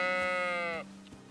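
A single sheep bleat in the medieval game Kingdom Come: Deliverance II, a loud, wavering, close call lasting under a second, followed by quiet ambience and a faint thump.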